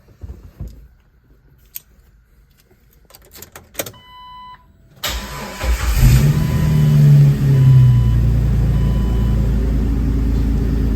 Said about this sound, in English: the following is a cold start video for the 2002 Wrangler Sport for sale